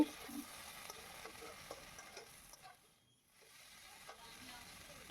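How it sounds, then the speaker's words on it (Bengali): Fried potato and eggplant being stirred with ground coriander and chili powder in a pan, a soft steady sizzle with faint scraping, quiet and close, briefly dropping away midway before resuming. "দিয়ে আবারও নেড়ে চেড়ে নিচ্ছি"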